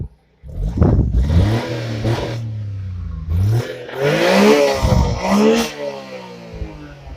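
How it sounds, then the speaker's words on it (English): A 3-cylinder engine of a 1993 Honda Beat Type C car revs up from idle, rising and falling in pitch through two or three throttle bursts, loud and close, with no voices. "Let's give her some rev."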